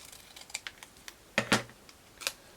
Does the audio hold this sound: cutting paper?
yes